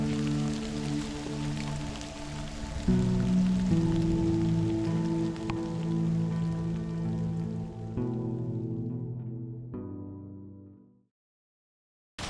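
Heavy rain from Tropical Cyclone Alfred pours steadily onto a surface in a dense, continuous patter that fades out near the end.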